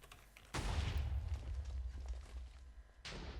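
TNT explodes against a wall in a video game, a sudden loud blast at the start followed by a rumbling crumble, then a second blast near the end, with no talking.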